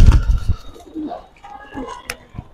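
Pigeons kept at home coo in soft, low, rolling calls, a few close coos with light chirps and a brief flutter among them.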